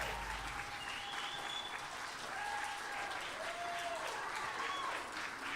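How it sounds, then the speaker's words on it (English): Steady, dense applause from a pageant audience fills the whole stretch at an even level, with a few faint whistles rising over the clapping. "let's give them a round of applause, ladies and gentlemen"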